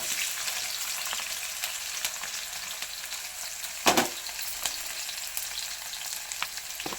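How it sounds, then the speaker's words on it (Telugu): Chopped red onions dropped into hot oil with fenugreek seeds sizzle steadily, with a louder crackling burst about midway, no voices. "వేసుకున్న తర్వాత కట్ చేసిన ఎర్రగడ్డ వేసేసుకోండి ఫ్రెండ్స్"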